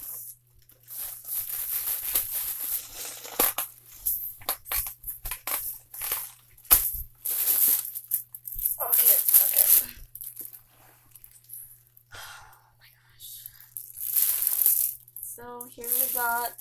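Heavily taped cardboard packaging is cut and torn open with a knife: close, irregular bursts of ripping, crinkling and crunching, with quiet pauses between efforts.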